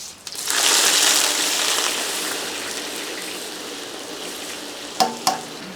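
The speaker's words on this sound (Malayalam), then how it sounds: "ഇനി നമുക്ക് കുറച്ച് സവോളയോടെ വറക്കാം." Sliced onions and curry leaves fry in hot oil in a large batch for 125 people, giving a dense, steady sizzle close up with a couple of sharp stirring knocks near the end.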